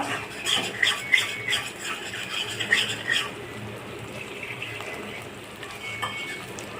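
Masala sautéing in oil in a pan with a spatula, busy scraping and stirring up close for the first few seconds, then settling into a quieter low sizzle.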